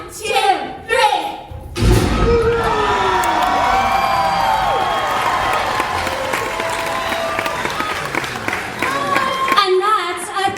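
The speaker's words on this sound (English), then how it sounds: "And that's a thunder clap." An audience at a live tabletop roleplaying show performs a thunder clap, with slow, accelerating rhythmic claps building into a long wash of applause, cheering and whoops, then tapering off into scattered claps.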